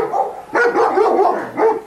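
A puppy at a dog rescue barks close by, letting out a quick string of high yapping barks with a short pause in the middle, alone and fairly loud.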